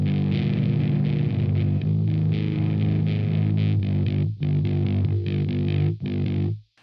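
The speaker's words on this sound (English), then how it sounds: "you start to hear its own distortion characteristics pop through straight away" A thick, buzzing distorted guitar tone from a Hotone Djent distortion pedal sustains loudly and continuously, with chords shifting and briefly choking off near the end.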